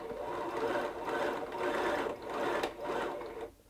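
A Bernina sewing machine, a model with a previously stuck needle bar, runs a straight stitch in a steady, close mechanical whir with rhythmic pulsing, then stops at the end.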